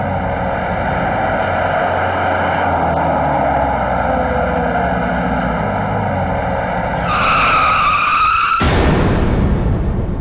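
A car skids hard to a stop, a long rising tire squeal over a running engine that ends in a sharp abrupt cut, loud and close with no voices.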